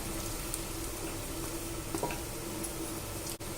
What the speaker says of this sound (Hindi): प्याज को लाइट ब्राउन करेंगे। प्याज ब्राउन हो गया है।